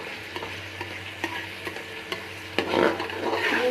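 Tomatoes with cumin sizzle softly over medium heat in a pan while a spoon stirs and scrapes in irregular taps, the frying growing louder and more crackly toward the end, under a low steady hum.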